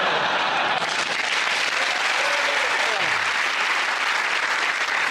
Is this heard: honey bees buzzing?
no